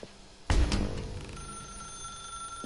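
A telephone rings inside a dark room in the video game The Stanley Parable, starting with a sharp, loud burst and followed by a sustained ringing tone that slowly fades.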